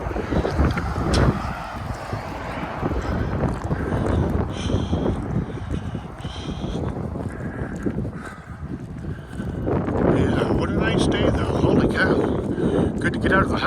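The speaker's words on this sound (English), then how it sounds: "Yeah, it is very windy today." Strong wind gusts roar steadily across the microphone on a short outdoor walk, loud and continuous with a brief lull midway before surging again; a voice speaks faintly under the buffeting.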